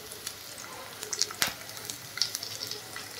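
Ginger, garlic and dried red chillies sauté in a pan with a quiet, steady sizzle. A few light pops and clicks sound close by, and one sharp tap lands midway.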